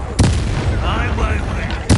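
A Confringo blasting spell from Hogwarts Legacy fires with a sharp booming burst near the start and another at the very end, separated by a rumbling, crackling explosive tail, loud and close.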